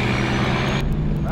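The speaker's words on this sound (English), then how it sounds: "This traffic noise kills me." A truck passes in road traffic between Yuma and Kingman, Arizona, producing a loud, close engine rumble with a steady tonal whine that cuts off abruptly, followed by fainter road noise.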